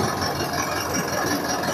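A Zetor 5511 diesel tractor, left standing for three months, runs with a steady, rough, rattling drone. The sound is loud, continuous and close, with no talk over it.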